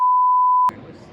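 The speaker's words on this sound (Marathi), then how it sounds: "सगळं बीप करतो." A single loud censor bleep holds one pure, steady tone for about two-thirds of a second, then cuts off abruptly into faint room noise.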